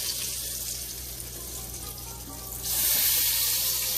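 Pig tails frying hard in hot oil, a steady loud sizzle with crackling pops throughout, swelling louder toward the end.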